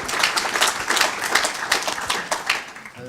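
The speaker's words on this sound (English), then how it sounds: "A wee round of applause perhaps for that." Audience members at a panel discussion on tobacco control give a round of applause, a moderate crowd of hands clapping with slightly uneven bursts that taper off near the end.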